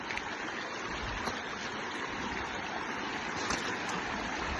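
Freshwater stream flowing along a road trip from Alaska to Texas, a dense, steady rushing wash of water, close and continuous with no talking.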